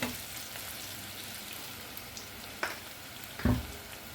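Onion with garlic paste, cumin, coriander and fenugreek frying in a pan for an okra-tomato curry with dried prawns, a soft steady sizzle with a couple of sharp clinks near the end.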